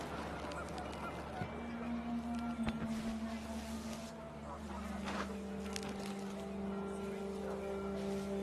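Panicked geese honk in the video game What Remains of Edith Finch, fairly faint under a steady droning game soundscape with sustained tones throughout.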